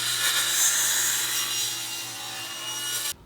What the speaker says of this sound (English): I can cut the other set of blanks out at the table saw using my table saw sled